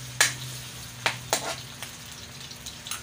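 Garlic dropped into hot oil in a pan for pork and chicken adobo, sizzling steadily with a few sharp crackles and light stirring scrapes, close up with no talk.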